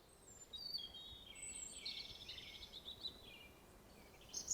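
Birds sing near a river, with bright chirping phrases that rise and fall at moderate distance over a low steady wash of flowing water, and no voices are heard.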